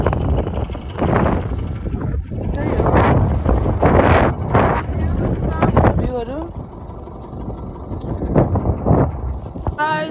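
Strong wind in Mustang, Nepal buffets the microphone in loud, uneven gusts, while people talk over the rushing noise.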